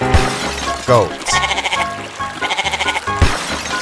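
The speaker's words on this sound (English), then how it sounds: "Goat." A cartoon-style goat bleats in a children's animal clip, a few short wavering calls spaced across the clip with bright music-like harmonic sounds between them, loud and close.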